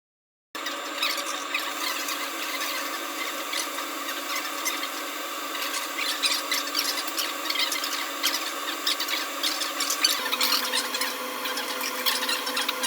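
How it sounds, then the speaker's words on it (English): Laser engraving machine marking a flat pendant, a steady whirring hum with faint hissing and light scratchy ticks, continuous and close, with a slight shift in pitch near the end. "As configured in the job sequence, the laser marking operation is performed first."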